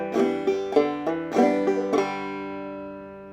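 Clawhammer banjo playing measures of the tune Georgia Railroad, a handful of bright plucked notes and strums in a steady rhythm, close and clear, ending on a ringing open third string that fades out.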